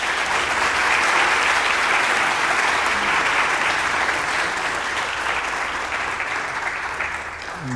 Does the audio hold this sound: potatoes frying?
no